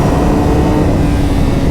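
A Yamaha R6 600cc motorcycle engine roars loud and close with a steady, dense drone that suggests hard acceleration, with no voices over it.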